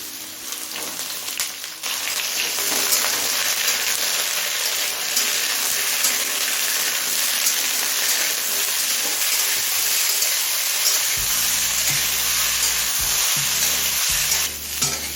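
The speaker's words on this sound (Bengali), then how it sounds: "এবার একে একে সবজিগুলো ভেজে নেব প্রথমে আমি আলু মুলো আর গাজরটা দিয়ে দেবো" Sliced potato, radish and carrot frying in hot oil for a Bengali mixed-vegetable curry, a steady, loud, continuous sizzle with occasional stirring scrapes, heard alone without talk.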